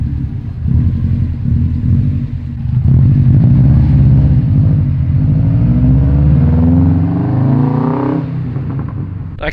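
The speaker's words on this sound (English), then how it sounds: "It sounds way better with the mufflers off." A Mitsubishi Evo 10 with its mufflers removed revs hard nearby, its loud raspy engine note climbing and falling through a sustained rev, with no talking.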